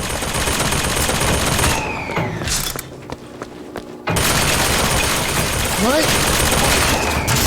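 Automated turret gunfire in BioShock Infinite, loud rapid bursts with echoing impacts that cut out briefly midway and then resume, with a voice speaking briefly over the shooting.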